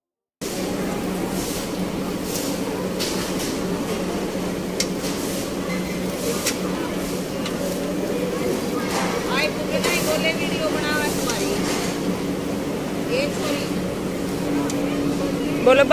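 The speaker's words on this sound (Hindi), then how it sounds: "यहाँ सिलाई हो रही है झंडे की सिलाई हो रही है मशीन।" Sewing machines stitching flags at an ashram, a continuous mechanical whirring drone that holds steady and fairly loud throughout, with voices faintly audible over it.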